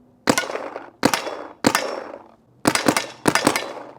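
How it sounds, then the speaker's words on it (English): Five sharp paintball marker shots from an HK Army 180R, fired in an uneven rhythm with short bright cracks and quick decays, close and loud with no talking. "I'm going to throw up this video and I want you to listen to the shot"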